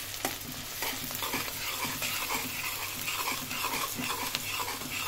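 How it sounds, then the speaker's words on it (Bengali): Raw jackfruit pieces stirred in a pan of hot oil, a steady close sizzle of frying with repeated scraping strokes of a utensil against the pan. "এটাকে একটু নেড়ে চেড়ে দিচ্ছি"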